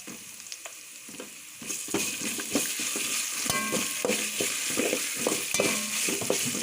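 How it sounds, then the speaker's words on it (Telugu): Ginger garlic paste sizzles and fries in a hot pan for a mint pulao masala curry, with a loud steady hiss swelling after a quieter start and repeated stirring scrapes throughout. "అల్లం వెల్లుల్లి పేస్ట్ కొంచెం పచ్చివాసన పోయేంత వరకు మగ్గనివ్వాలి"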